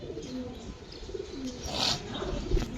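Pigeons coo at a pigeon farm housing silver Giribaz and colored breeds, with pink-beaked, pink-eyed birds nearby, producing soft, continuous low cooing with a brief brighter call and faint wing or movement noises.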